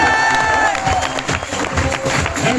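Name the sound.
audience applause in a hall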